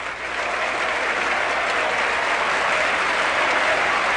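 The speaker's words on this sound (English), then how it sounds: "you can hear the sustained and very enthusiastic applause" Many members of the US House chamber keep clapping for President Cory Aquino's arrival, producing a thick, unbroken wash of applause that stays loud and even from start to finish.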